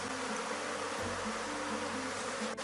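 A honey bee swarm at a beehive hums steadily and densely, a close continuous buzz with wavering tones from many bees and no voices.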